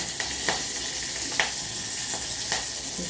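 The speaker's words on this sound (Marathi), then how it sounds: "चांगल्या पांढऱ्या होईपर्यंत या परतून घ्यायच्या थोडा कढीपत्ता घालायचा" Food sautés in a pan as curry leaves go in, a loud, steady close sizzle with a few brief spatula scrapes and taps, and no talking.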